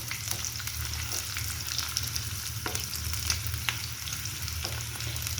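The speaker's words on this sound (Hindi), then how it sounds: "देखिए हमारा ऑयल गर्म हो चुका है, तो इसके अंदर मैंने प्याज जो है ऐड कर दिए हैं" Chopped onions sauté in hot oil in a pan for a mushroom masala curry, giving a steady, close sizzle with scattered crackles and pops and occasional faint stirring clicks, with no talking.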